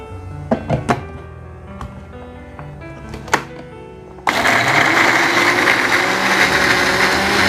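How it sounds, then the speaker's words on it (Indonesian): After a few clinks and knocks, an electric blender starts and grinds shallots, garlic, candlenuts and turmeric with a little water, a loud steady whirring roar up close. "Saya menggunakan blender ya."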